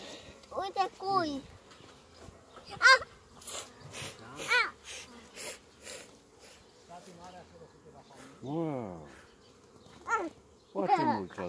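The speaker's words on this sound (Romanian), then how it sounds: "Foarte mulți albini." Honey bees swarm around an opened hive, their buzzing rising and falling in bursts while people talk nearby.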